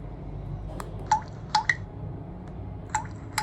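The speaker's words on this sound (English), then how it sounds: "But we have the phone now and it makes a sound." A flip phone gives short electronic key beeps, single and paired tones spaced irregularly over a few seconds, close by and clear above faint room noise.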